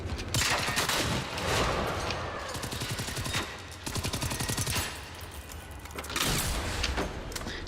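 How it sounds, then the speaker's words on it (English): A grenade launcher and rapid automatic fire in a Terminator video game, dense bursts of gunshots with heavier booms and mechanical clatter in several loud volleys. "That's a grenade launcher, by the way."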